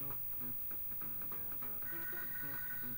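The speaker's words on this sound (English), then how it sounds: "phone's ringing" A phone ringtone plays softly and steadily indoors, a repeating tuneful ring with no voices present.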